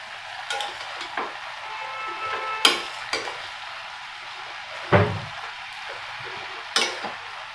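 A spoon stirs chavli bhaji with fresh grated coconut in a pan, giving a few sharp scrapes and clinks against a soft, steady sizzle, with no talk.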